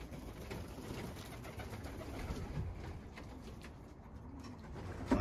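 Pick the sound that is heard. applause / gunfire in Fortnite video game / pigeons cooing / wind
pigeons cooing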